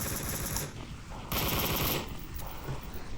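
Light machine gun fire in the VR shooter Onward during a competitive league match, coming as rapid automatic bursts that start and stop over a few seconds.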